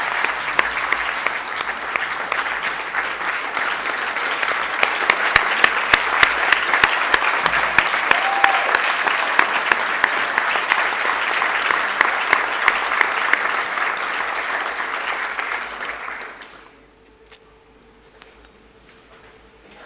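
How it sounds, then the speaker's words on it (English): Lecture audience giving sustained applause for Professor Gurnah, a dense, even round of clapping lasting about fifteen seconds before cutting off into near silence. "Professor Gurnah deserves another round of applause"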